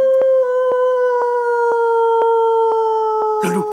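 A wolf howling in an animated film, one long sustained wavering howl held alone throughout, with a soft regular ticking beneath it and a brief breathy noise at the end.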